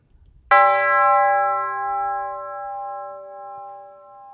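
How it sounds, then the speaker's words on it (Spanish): A single bell strike rings out clearly, its bright tone lingering and slowly fading over several seconds. "Sonó la campana, la escuchamos."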